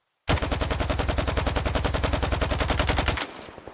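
The Dnipro gun in a video game fires one unbroken automatic burst of about three seconds, rapid and evenly spaced, loud and close, then cuts off abruptly.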